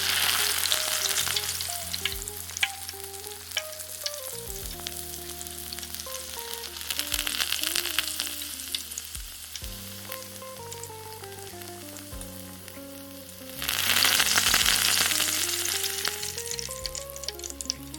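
Thin strips of marinated bulgogi beef sizzle and spit steadily in a hot pan, a dense continuous frying hiss that swells louder partway through, with occasional stirring scrapes and background music playing.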